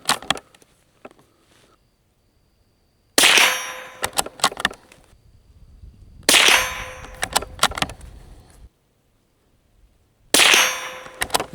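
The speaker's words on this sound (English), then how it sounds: "Let's fire off a group of 5." Winchester Model 72 rifle shots, fired in a group of five: sharp, loud, close cracks, each followed by a ringing metallic clang and short decay, spaced about three seconds apart with quiet between.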